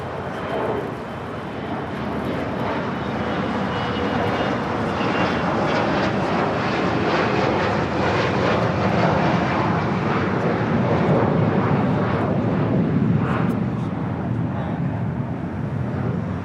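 An airliner takes off at Los Angeles International Airport, a loud sustained jet engine roar that builds steadily and holds throughout.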